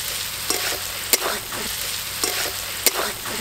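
Tomatoes fry with spices in a pan for a rupchanda fish kalia, a steady sizzle broken by several spoon scrapes and a couple of sharp clacks against the pan, no voices.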